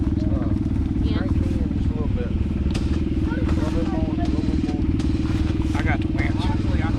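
Honda motorcycle engine running steadily close by during an off-road mountain climb, a constant low drone throughout, with people talking over it and occasional clatter.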